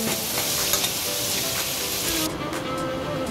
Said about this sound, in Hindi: प्याज को हल्का सा फ्राई करना है